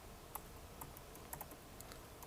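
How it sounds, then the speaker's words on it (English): Computer keyboard keys are tapped in short, irregular bursts, roughly a dozen light clicks over a faint steady background hum, close but quiet, with no one speaking. "Typing and standing up is not possible."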